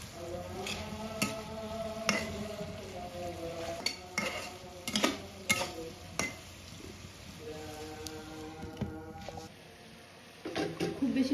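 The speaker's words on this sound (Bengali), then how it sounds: "এখানে ইলিশ মাছটাকে একটু হালকা কষিয়ে নিচ্ছে" Hilsa fish pieces lightly sautéed and stirred in a pan, with spatula scrapes, clinks and a faint sizzle running under a person talking.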